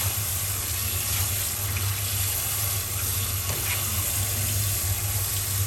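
Cooked yellow noodles rinsed under cold running tap water, heard as a steady, close, continuous gush of water into a sink with no pauses or speech.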